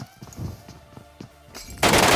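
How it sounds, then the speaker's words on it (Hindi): Rifle shots from an MK weapon in the mobile battle-royale game BGMI, a few sharp reports spaced across the clip, then a loud burst of broadband gunfire noise closing it out, with no talking. "एमके का मैंने 2-3 शॉट चिपकाया है"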